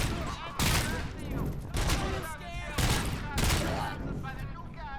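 Loud, close gunfire in the Robocop: Rogue City video game comes in several rapid bursts separated by short breaks, dense and punchy throughout.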